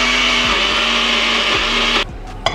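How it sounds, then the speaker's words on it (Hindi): An electric kitchen blender whirs steadily as it grinds coconut, a loud continuous motor drone that cuts off abruptly near the end, followed by a short clunk. "कद्दूकस करने का मेरे पास टाइम नहीं है तो मैं ये ब्लेंडर यूज़ कर रही हूँ।"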